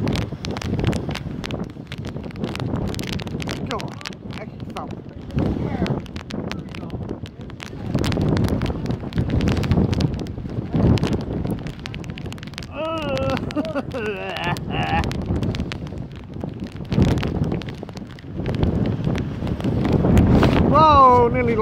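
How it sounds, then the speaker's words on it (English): Heavy wind buffets a microphone in continuous rumbling gusts, with a voice speaking intermittently over the blustery noise. "It's very, very windy"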